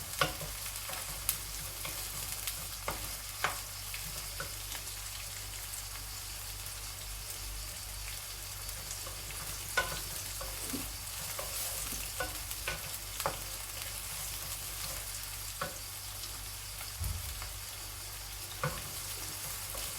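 Bitter gourd and potatoes fry in a pan over a medium-high gas flame, giving a steady soft sizzle with occasional sharp pops and stirring clinks throughout, close and alone.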